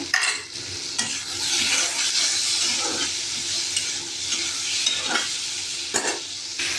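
Potatoes and tomatoes frying in a pan for an egg curry, a loud, close hissing sizzle with repeated spatula scrapes and stirring bursts throughout.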